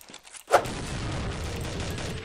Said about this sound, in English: What are you shooting at your own teammate, bruh?